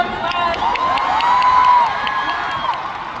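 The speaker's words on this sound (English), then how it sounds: "Let us give him a round of applause." A large fan-concert crowd in Manila cheers, whoops and applauds for a K-pop singer, a dense, continuous roar that holds steady and swells slightly midway.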